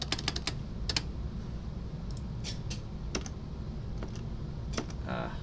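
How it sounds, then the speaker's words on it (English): Steady keyboard typing on a computer, a run of crisp key clicks with short pauses between bursts, close to the microphone over a low background hum, with no voices. "So we're going to type that there."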